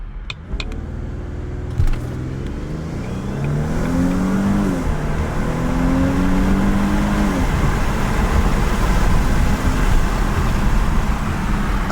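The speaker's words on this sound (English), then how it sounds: "I just wanted to show you it driving. I'm gonna try and do a nice little brake boost" Audi A6 3.0T pulling away hard from a brake-boost launch in sport mode, its supercharged engine note climbing steadily in pitch through the revs, close and loud with no talking.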